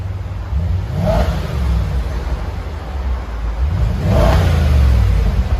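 A 2010 Audi S5 with a 4.2-litre V8 on its stock exhaust revs twice, each a low, fairly mild surge that swells and settles, with a steady engine drone between the revs and no one talking.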